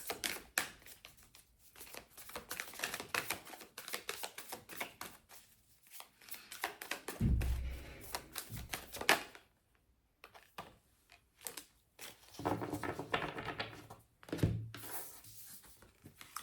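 Tarot cards are shuffled and handled in repeated bursts of papery riffling and soft slaps, with short pauses between rounds and a few thumps as the deck is set down.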